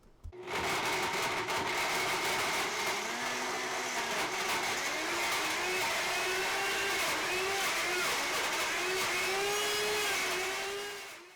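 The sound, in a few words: Blendtec blender blending frozen dessert on high speed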